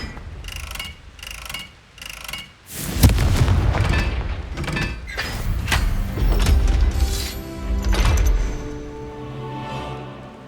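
Confringo explosion spell cast in Hogwarts Legacy, a deep booming blast followed by crackling, mechanical clanks and rumbling debris over a busy game soundscape with repeated bursts.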